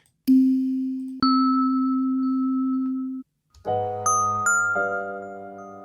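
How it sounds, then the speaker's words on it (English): A chimey, metallic bell-like synth tone rings out in clear struck notes, first one sustained ding, then a second strike, then a richer layered chord with a few bright higher chimes on top, loud and alone. "Just add that kind of like chimey bell thing."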